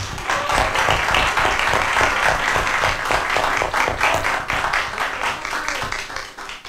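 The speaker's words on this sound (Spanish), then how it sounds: "demos otro caluroso aplauso." Applause from a conference audience fills the hall, dense and steady for several seconds before tapering slightly at the end, with no talk over it.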